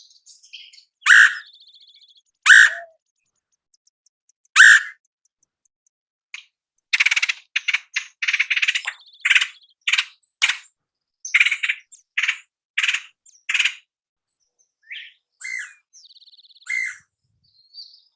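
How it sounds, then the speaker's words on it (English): Red-headed woodpecker calls ring out clearly in a quiet setting, several sharp harsh notes spaced apart early, then a busier run of chattering calls and chirps with other birds faintly in the background. "This is the red-headed woodpecker."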